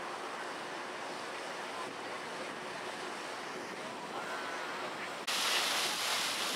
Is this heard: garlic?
no